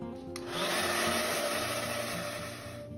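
A hair dryer blows over a wet watercolor forest painting, a close, steady whooshing roar that swells slightly and holds for a few seconds.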